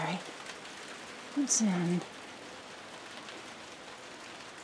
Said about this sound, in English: It's the first day that we have rain while I'm here.